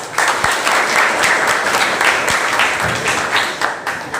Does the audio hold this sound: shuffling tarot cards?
no